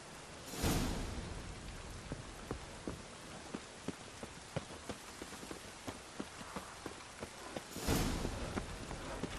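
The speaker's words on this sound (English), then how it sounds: "Rain, I like rain." Rain falls steadily in The Witcher 3, a dense hiss of drops on surfaces with scattered sharper drips. Two brief swells of heavier gusting noise rise near the start and again near the end.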